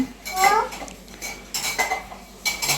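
Metal pots and dishes clink and clatter in several close, bright bursts, with scraping between the knocks and a voice speaking faintly in the background.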